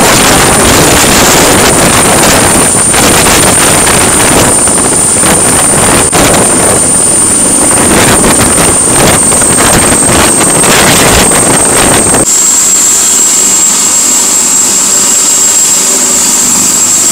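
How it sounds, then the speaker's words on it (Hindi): A helicopter lands: loud, roaring rotor and engine noise with heavy wind buffeting for about twelve seconds, then the roar drops abruptly to a quieter, high whine. "यहाँ पर लैंड हो रहा है हेलीकॉप्टर"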